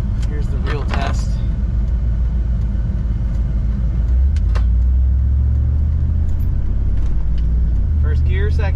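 Chevrolet Silverado truck with a 4L60 automatic driving along, a heavy low engine rumble that deepens and swells as it moves up through the gears, with a voice talking briefly over it.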